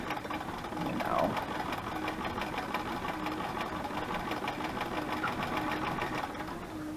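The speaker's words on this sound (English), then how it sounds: "I'm sewing pretty straight, so there really won't be very much that's going to be off." A sewing machine stitches steadily in a fast, even mechanical whir with rapid regular ticking, close and continuous, while a person talks faintly over it.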